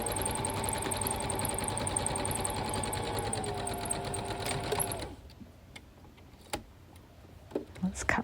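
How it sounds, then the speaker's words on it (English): A sewing machine stitches a quarter-inch seam while turning a stitchery into a wall hanging, running as a steady, close whirring hum for about five seconds before stopping, followed by quiet handling noises. "Now I want to use the sewing machine today"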